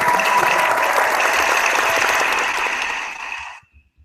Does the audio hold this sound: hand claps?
yes